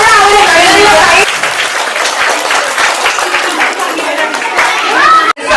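Loud, dense applause from a school audience fills the hall, many hands clapping steadily for several seconds, with children's voices and chatter mixed in before it cuts off abruptly near the end.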